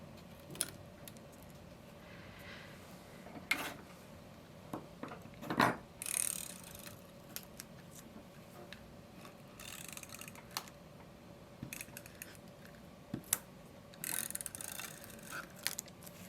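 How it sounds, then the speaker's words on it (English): A tape glue runner is drawn carefully around the edge of a cellophane shaker card, making quiet, intermittent ratcheting clicks and soft rubbing in short bursts against near silence. "what I'm doing is just, oh so carefully, going around with my tape glue runner"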